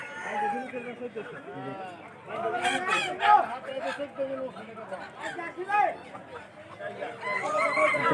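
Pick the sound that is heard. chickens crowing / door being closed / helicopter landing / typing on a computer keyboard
chickens crowing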